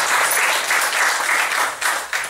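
Audience applause fills a magic show during a close-up micromagic ring routine, a steady dense burst of clapping held loud for a couple of seconds with slight swells near the end.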